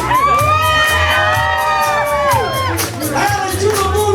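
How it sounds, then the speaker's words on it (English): Wedding guests at a reception scream and cheer together in a loud, sustained crowd roar, with high shrieks and whoops rising over it and easing slightly near the end. "everybody scream."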